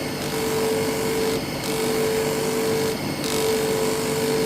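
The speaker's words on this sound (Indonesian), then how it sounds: "Ini mau saya poles dengan kondisi amplas yang kering." Continuous dry abrasive grinding of sandpaper on kalimaya opal stone with a steady hum, briefly pausing twice, loud and close.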